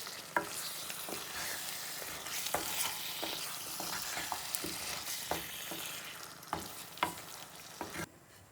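Lamb mince and potatoes are stirred in a frying pan, a steady sizzle broken by repeated sharp scrapes and clacks of the spoon against the pan, close and fairly quiet, with no talking.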